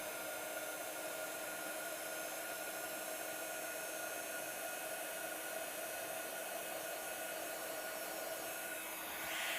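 A heat tool blows a steady, even whir while melting embossing powder over pigment ink on a handmade card, continuous and fairly quiet with no talking.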